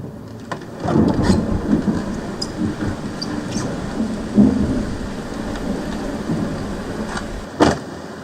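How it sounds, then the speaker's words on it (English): Ambient rain heard from inside a car, a steady patter of drops on the roof and glass with low rumbles of thunder, rising to a heavier swell near the start and two sharper knocks later, no voices. "I went ahead and grabbed an ambient rain from inside of the car"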